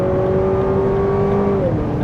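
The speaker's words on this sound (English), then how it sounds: "yep, you're gonna hear the 4-cylinder," A 2023 Lexus RX350's four-cylinder engine accelerates in sport mode, giving a loud, steady drone with a rising whine heard from inside the cabin, with no voices.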